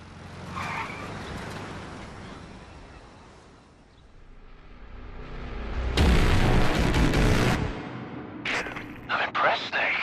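Car driving and skidding in the video game Metal Gear Solid V: Ground Zeroes, with a rumbling engine that swells into a loud, broadband screech around the middle, followed by short sharp bursts near the end.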